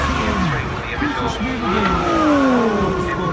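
A race car launching hard off the start line at Carfest North, engine revs rising in pitch as it pulls away, with a commentator talking over the roar.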